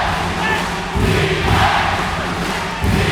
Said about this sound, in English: the crowd is as loud as it's ever been here inside this venue